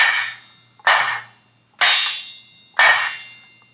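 A pot lid is struck with a wooden spoon four times at an even, unhurried pace, each close metallic clang ringing out bright and fading before the next hit, with no other sound.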